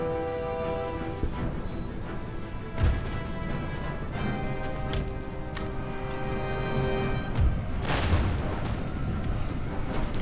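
Cannon artillery fire in Empire Total War during the Battle of Fontenoy, heavy booms at around three and eight seconds over a bed of orchestral music and distant battle noise.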